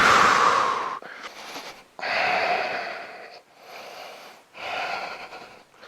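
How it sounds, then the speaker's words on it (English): Loud, heavy breathing during a home dumbbell workout: long forceful exhales in a repeating rhythm, close up and with no talk over it. "Breathing loud and proud."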